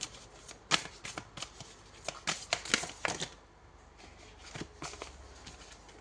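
Tarot cards being shuffled in quick bursts of crisp riffling and flicking, close and fairly quiet, with short pauses between handfuls.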